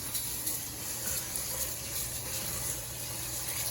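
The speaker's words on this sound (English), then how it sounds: "first we gotta wash the rice. You always wash your rice." Tap water runs steadily into a bowl of rice being washed in a home kitchen, a continuous close splashing wash with no talk.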